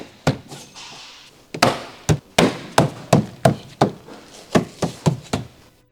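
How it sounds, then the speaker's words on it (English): A right rear wheel arch molding on a Ford Explorer is tapped firmly into place, a series of about a dozen sharp, close knocks in an uneven rhythm with brief pauses between. "Once the holes are aligned, firmly tap the right rear wheel arch molding into place."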